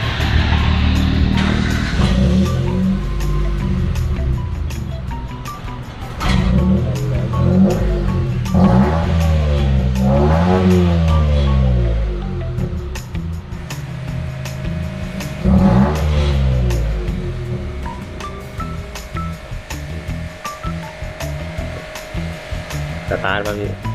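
Car engine cranks and starts, then idles loudly and revs up and down several times in long swells, close and steady throughout the clip.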